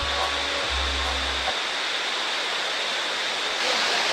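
Steady broadband rushing of a Jamaican waterfall, loud and continuous, with a brief low rumble in the first seconds.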